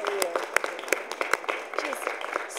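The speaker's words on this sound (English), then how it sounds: "a round of applause for you" An audience applauds Lieutenant Governor Kathy Hochul at a New York State Women's History Month kickoff, with scattered, uneven claps over a murmur of voices for a couple of seconds.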